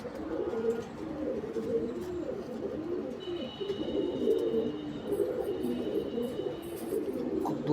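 Domestic pigeons in a loft coo continuously, a soft rolling murmur of many birds close by with occasional faint chirps, steady throughout and no voices.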